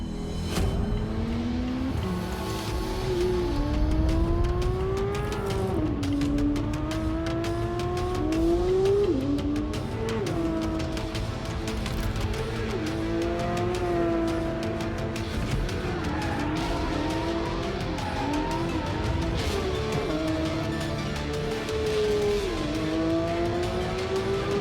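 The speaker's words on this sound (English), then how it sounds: "let's have a look at the new Porsche 911 GT3 in action." A Porsche 911 GT3 at speed on road and racetrack, its engine revving up through the gears again and again with rising whine, repeated upshifts and loud close passes, continuous and without talk.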